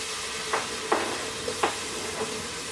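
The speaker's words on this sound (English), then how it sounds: "We're gonna stir the onions for a little bit." Onions stirred and sautéed in a pan for a beef stew, a steady sizzle with a few distinct scraping strokes of the spoon spaced about half a second apart.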